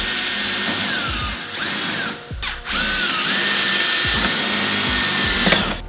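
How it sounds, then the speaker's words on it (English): A power drill whines loudly and close as it bores into a plastic car front lip on a Mk7 Golf R, pausing briefly once before starting again. "and you're gonna drill at these 3 points"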